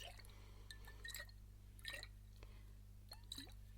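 Water sloshes and drips inside a glass water container, soft scattered trickles and small clinks, close and quiet over a steady low hum.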